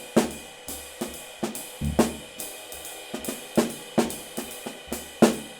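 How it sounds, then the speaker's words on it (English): Solo jazz drum groove, close and clear: sharp snare accents mixed with softer left-hand ghost taps over steady bass drum thuds and ringing cymbals. "You need to have some subtlety in your left hand with some accents and taps"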